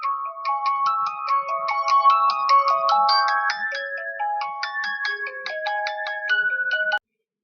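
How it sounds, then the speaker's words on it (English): A mobile phone ringtone plays a loud, clear electronic melody of quick stepped notes for about seven seconds, then cuts off abruptly into silence. "Well, that's what my phone sounds like."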